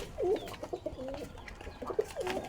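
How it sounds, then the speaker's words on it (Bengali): Pigeons on a pigeon and hen farm coo in a series of soft, rounded calls, several repeated coos over a low background hum, fairly close but not loud. "ঝুড়ির ভিতরে আরো আছে কবুতর।"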